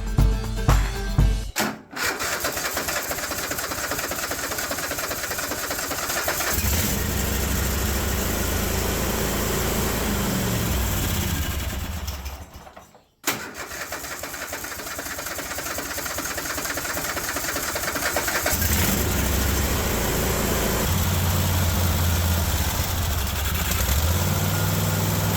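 A Cub Cadet 1050 hydro lawn tractor engine starts on choke and runs at a loud, rough idle close by, briefly dropping out before catching again and settling into a steady, uneven chug.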